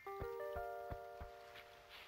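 Rain falling in Animal Crossing Wild World, a faint soft patter spread beneath gentle chiming game music with a few light taps.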